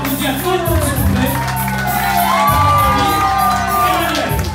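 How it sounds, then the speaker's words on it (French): An audience at a nursing home Miss and Mister pageant cheers a male candidate, with loud whoops, shouts and crowd noise alongside sustained clapping and a tonal background, close and energetic throughout. "On est là pour applaudir tout le monde, s'il vous plaît."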